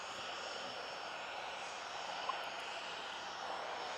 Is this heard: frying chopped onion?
no